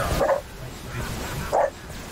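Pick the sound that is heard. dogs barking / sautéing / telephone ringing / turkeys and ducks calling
dogs barking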